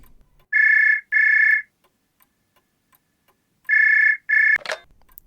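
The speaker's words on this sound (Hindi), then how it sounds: "तभी दोबारा फोन की घंटी बज उठी।" Telephone bell ringing in two double-ring pairs, each pair made of two short, loud electronic trills separated by silence, the last ring cut off by a brief clatter.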